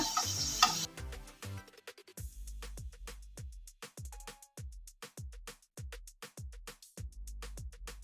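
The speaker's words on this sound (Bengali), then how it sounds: "প্রথমে মিডিয়াম ফ্লেমে ভেজে তারপর কিন্তু লো ফ্লেমেই ভাজবেন নাহলে কিন্তু ভেতরে কাঁচা থেকে যাবে" Egg patties frying in a pan over a low flame, heard as a faint sizzle with a steady run of sharp ticks and clicks from the pan and utensils, close and fairly quiet.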